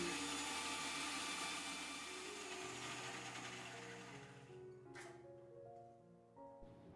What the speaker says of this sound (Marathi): यामध्ये दोन ते तीन चमचे पाणी घालायचं आणि याची एकदम बारीक स्वरूपाची पेस्ट बनवून घ्यायची